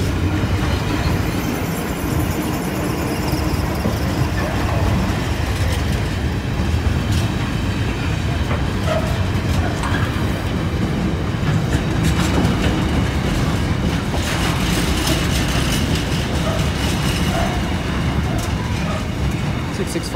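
A freight train rumbles steadily past a level crossing at close range, with continuous heavy roar and rhythmic wheel clatter for the whole stretch.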